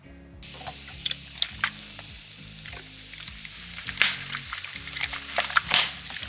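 Baking soda and white vinegar fizz in a drawer, giving a steady crackling hiss with scattered sharp pops, close and fairly loud, sounding much like frying food.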